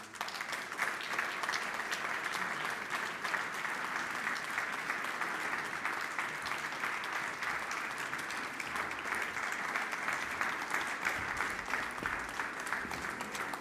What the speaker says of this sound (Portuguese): Aqui eu pedi uma salva de palmas